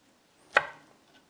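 A single sharp knife cut through the tough threads of mussels on a board, one crisp chop with a short ringing tail, close and alone.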